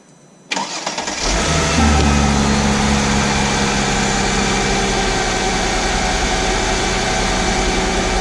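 A Mercedes E320 W210 with the M112 engine, under fuel-pressure testing, cranks briefly after a quiet start, then catches and settles into a loud, steady close-up idle that runs to the end with no talking.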